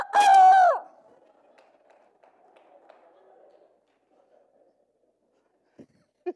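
A rooster's crow, most likely a human voice imitating it: one loud, harmonic call under a second long with a falling end, followed by faint room murmur and two soft taps.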